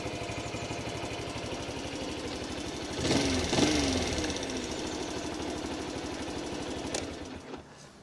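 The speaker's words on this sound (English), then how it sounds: "Tick over's lovely, bottom end jetting fine" A Honda C90 motorcycle with a freshly replaced carburettor ticks over at a steady, close idle, briefly swelling louder near the middle before dropping away just before the end.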